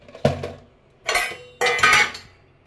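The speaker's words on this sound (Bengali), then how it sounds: "এই বাসন কটা গুছিয়ে নিই" Cooking pots and dishes being gathered up in a home kitchen: three close, loud bursts of metal clattering and scraping, a short knock followed by two longer jangling rattles separated by brief pauses, with no speech.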